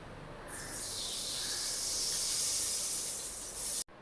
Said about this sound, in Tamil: குக்கர் நல்லா காஞ்சி வந்துட்டுங்க இந்த நேரத்தில் ஒரு மூணு ஸ்பூனு நெய்யை இதில் சேர்த்துக்கோ